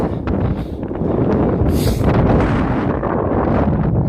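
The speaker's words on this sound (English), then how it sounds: "It's very windy." Strong wind in the Elan Valley, Wales, buffeting the microphone in heavy rumbling gusts, loud and close, with a brief hissing surge partway through.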